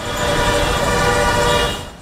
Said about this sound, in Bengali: চোখের সামনে নির্দেশনা দেখেও অনবরত বাজিয়ে যাচ্ছেন হর্ন